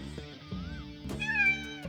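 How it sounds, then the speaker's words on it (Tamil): A pet cat meowing, several short close meows that overlap a sustained tonal background, with one higher drawn-out meow near the end, with no talking. "ஓ கேட்."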